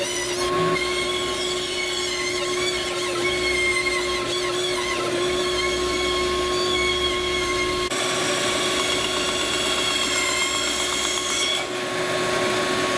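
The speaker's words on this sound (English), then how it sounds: "Now just cut off those discs on the bandsaw." Bandsaw cutting round discs from stock for wind chimes, with a worn blade: a steady, loud, continuous whine with high ringing tones, unbroken throughout the cut and no talk.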